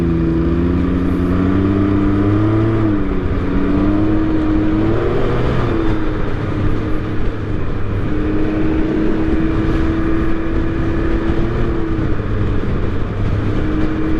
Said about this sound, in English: It'll pick up speed very quickly.